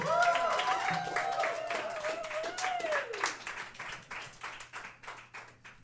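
Studio audience clapping during an Austin360 studio session, loud at first beneath a sung or sustained tone, then thinning into separate claps that fade toward the end.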